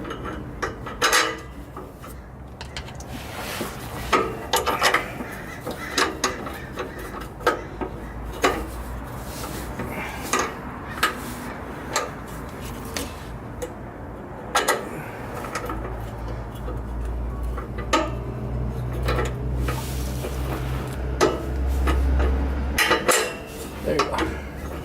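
Metal clanks and clinks of 2018 Subaru WRX stock exhaust parts being bolted back on, scattered knocks and rattles over a steady low hum, with faint speech in the background.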